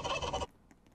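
Loud chicken squawking from a Roblox game, a brief burst of harsh fowl cries lasting about half a second that cuts off abruptly, followed by faint quiet sounds.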